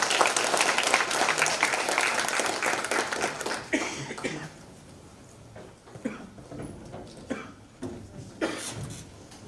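Audience applause welcoming a Jeonbuk National University professor at a public lecture on Saemangeum development, strong clapping that fades after about four seconds into scattered claps, coughs and room noise.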